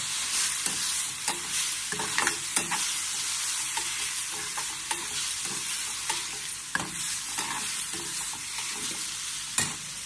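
Thick coconut burfi mixture with cream and ghee being stirred in a pan over low heat, a steady scraping and soft sizzle with repeated stroke accents, close and alone.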